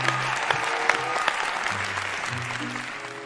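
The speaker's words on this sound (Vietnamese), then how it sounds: "Cho một tràng vỗ tay mọi người." Steady applause from a TV talent show audience, dense clapping that holds at an even level throughout, with a few sharper claps standing out.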